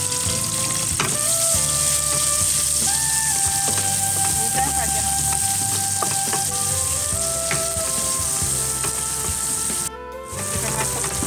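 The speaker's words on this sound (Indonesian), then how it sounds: "Seterusnya pakai minyak yang sama kita goreng bawang-bawang." Onions fry in oil in a pan with a continuous loud sizzle and crackle, now and then stirred, with faint clinks and a brief break near the end.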